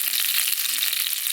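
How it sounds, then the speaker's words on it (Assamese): Panch phoron and dried chillies sizzle in hot oil in a wok, a steady, close, crackling fry with no voices. "এইপিনে কেৰাহীত গৰম হৈ আছে তেল, সেইটো কাৰণে মই ইয়াত পাঁচফোৰণ আৰু জলকীয়া দি দিলোঁ।"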